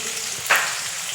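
Small shallots frying in a pan for a Kerala tuna fish curry: a steady close sizzle with a brief louder crackle burst midway, no voices.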